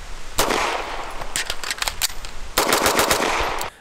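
Sig MPX 9mm carbine firing after a bolt release, two close, loud bursts of rapid shots separated by a short pause.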